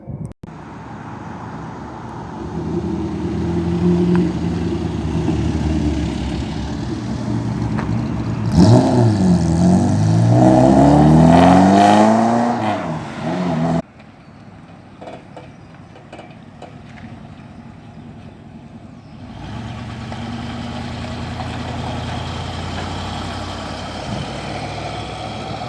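Hot rods, drag cars and custom cars leave a car meet, engines revving loudly and rising in pitch as vehicles pull away close by, with steady engine drone before and after and a quieter idling stretch in the middle.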